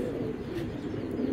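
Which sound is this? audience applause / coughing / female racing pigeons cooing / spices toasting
female racing pigeons cooing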